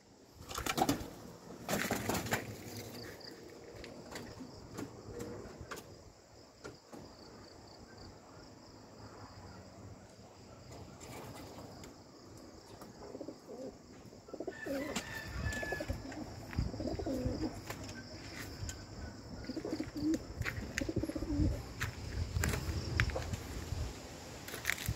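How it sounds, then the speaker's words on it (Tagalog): Pigeons cooing softly near a hut by a river at dusk, low repeated coos fairly faint against quiet surroundings with scattered small noises. "Hindi makapasok yung kalapati ah."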